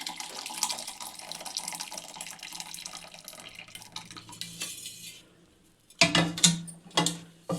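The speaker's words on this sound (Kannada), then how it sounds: "ಈಗ ನೀರು ಒಂದು ಪಾತ್ರೆಗೆ ಹಾಕ್ಕೊಂಡು" Water runs steadily from a tap into a pot for several seconds, then stops, followed by a few loud clanks of metal cookware nearby, while making toor dal rasam in a kitchen.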